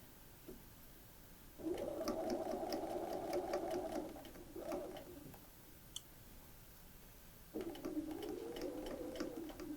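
A sewing machine edge stitches fabric at one eighth of an inch, a steady whirring hum in two bursts of a few seconds each with a brief stop and clicks between, fairly quiet in a calm room.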